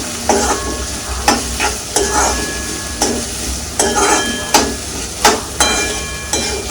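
Eggplant bharit frying in a pan, stirred with a spoon that scrapes and taps rhythmically about every half second to a second, over a steady close sizzle.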